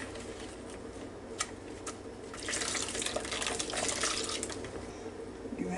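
Hot milk poured gradually into a custard pie mixture, a soft continuous liquid pour swelling midway over faint kitchen background noise.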